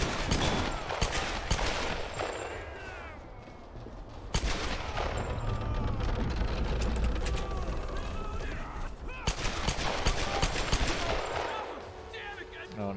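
Assault rifle gunfire from a video game comes in rapid automatic bursts and scattered shots, moderately loud, with brief pauses between volleys and talking now and then.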